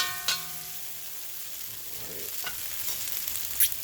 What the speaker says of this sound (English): You want the strands to stay together, so you just kind of toss it like this.